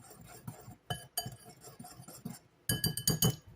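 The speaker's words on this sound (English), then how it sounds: "Going to whisk this up." A whisk clinks briskly against a glass bowl while stirring sugar and sea salt together for pie crust, with quick, uneven bursts of close, bright tapping separated by short pauses.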